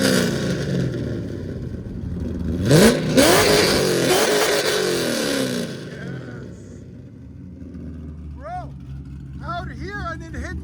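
A 1999 Chevy Corvette C5 convertible with a swapped LS3 6.2-liter V8 roars loudly up close, revving hard in rising sweeps before settling to a lower rumble, with voices chattering over the tail end.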